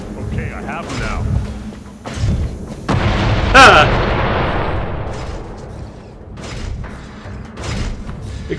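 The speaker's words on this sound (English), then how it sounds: "Explosion!" A booming explosion in the game Escape From Butcher Bay, a deep rumbling blast that swells and decays over several seconds amid other game thuds, with someone talking excitedly over it.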